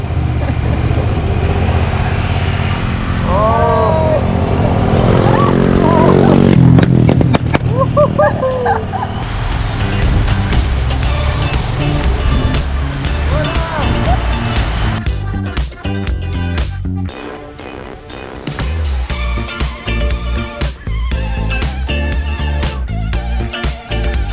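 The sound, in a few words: Yamaha MT-03 700cc motorcycle riding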